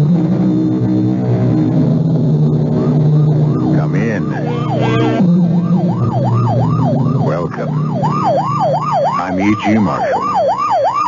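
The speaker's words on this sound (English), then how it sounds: "You know it's a police car or ambulance on the way to or from an emergency" A police car or ambulance siren wails loudly in steady rising and falling cycles, emerging over a dense background and growing more prominent as it continues.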